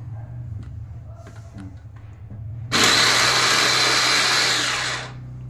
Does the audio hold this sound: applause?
no